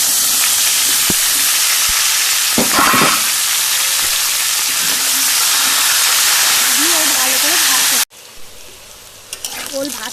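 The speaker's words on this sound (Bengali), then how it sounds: "ওল ভাজতে ভাজতে কি সুন্দর লাল হয়ে গেছে দেখুন" Elephant foot yam, mixed with salt, fries in a wok with a loud, steady sizzle and hiss that stops abruptly near the end, with brief stirring scrapes and a faint voice partway through.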